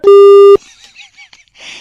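A loud, steady telephone busy tone sounds for about half a second after a phone call is hung up, followed by faint murmuring.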